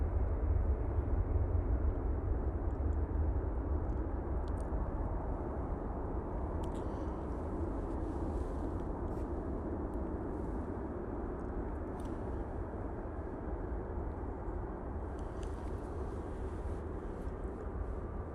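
Boeing 787-9 Dreamliner arriving from Delhi at Manchester Airport just after landing, a steady deep jet roar with broad rumble that holds constant and loud, slowly easing slightly over time.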